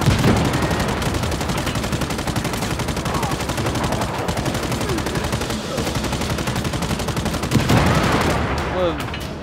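Explosions and heavy gunfire in the video game Just Cause 3, loud and continuous: rapid automatic bursts, with booming blasts layered over a dense, chaotic battle soundscape.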